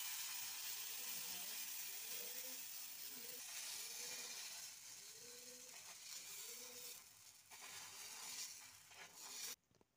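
Oil brushed with an eggplant stalk across a hot tawa, a soft steady sizzle with faint rhythmic scraping strokes, quiet and close, fading at the end.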